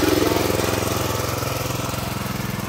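A walk-behind tractor (motoblok) engine running close by, a loud, steady, rapid chugging throb with an even pulsing rhythm throughout.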